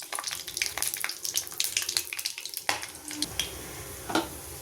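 Spices fry and sizzle in hot sesame oil for a millet biryani as a spoon stirs them through the pan, giving a close, steady crackle broken by scraping strokes.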